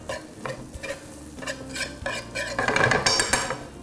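Onion and garlic drop into hot oil in a pan, with a soft sizzle under repeated scraping and clinking of a utensil against the pan, building toward the end.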